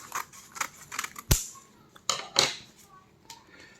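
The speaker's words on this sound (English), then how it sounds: "So let's unwrap this and see what we have inside." A packaged Hello Design leather watch strap is unwrapped, giving a string of close, crisp crinkles, taps and snappy clicks of handled packaging with quiet pauses between them.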